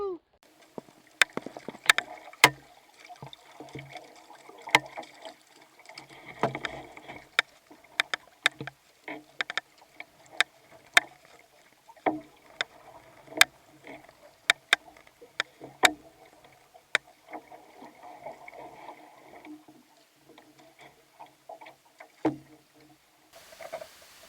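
A canoe is paddled across a lake toward Penn Lake: a steady series of soft, close paddle strokes, water drips and knocks against the hull, quiet and unhurried, with faint voices now and then.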